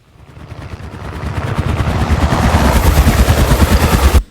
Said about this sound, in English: you get a pretty good helicopter